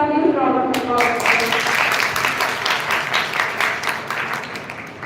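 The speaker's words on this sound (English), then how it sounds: "Please give her a huge round of applause." An audience at a school youth parliament event applauds the principal, a broad wash of clapping that swells after a brief voice at the start and slowly tapers off.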